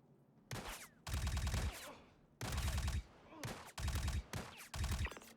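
Rifle fire in the Star Citizen video game rings out in rapid loud bursts, several close volleys separated by short pauses.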